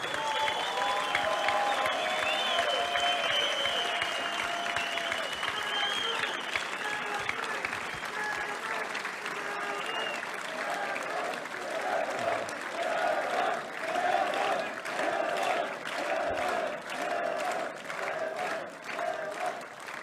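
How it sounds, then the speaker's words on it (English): A packed auditorium at an arm wrestling match bursts into sustained applause, with dense clapping and scattered whoops that hold strong for the full twenty seconds. "please stand up and give a round of applause for No Limits Devon Larratt of Canada."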